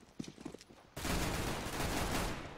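A sudden burst of rapid, dense gunfire in CS:GO erupts after a short stretch of quieter clicks and footsteps, and it stays loud and continuous to the end.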